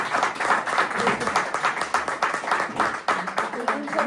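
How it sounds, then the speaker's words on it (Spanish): An audience at a memorial lecture session claps steadily and densely for about four seconds. The sharp hand claps are close and strong throughout. "Un aplauso grande"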